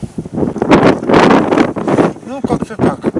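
Strong wind gusts roar against the microphone out on open water during spring net-setting from a boat, a loud, continuous buffeting with someone speaking over it.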